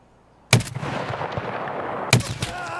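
Two heavy .338 Lapua rifle shots in Escape From Tarkov boom out about a second and a half apart, each a sharp close crack followed by a long rolling echo tail.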